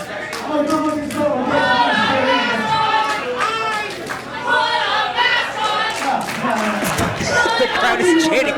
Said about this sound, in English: The crowd is chanting, put a mask on your dick.